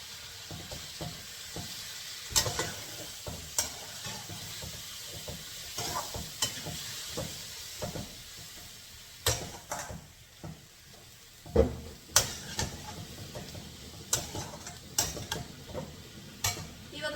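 Tomatoes with salt cook down in a pan, with a soft steady sizzle broken by repeated scraping stirs and clinks of a spoon against the pan, close and fairly quiet, no voices.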